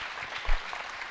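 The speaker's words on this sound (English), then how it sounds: "Let's give you guys a round of applause." Brief applause from spectators at a winter shooting competition in Syracuse, New York, a short, soft burst of scattered clapping with a low thump partway through.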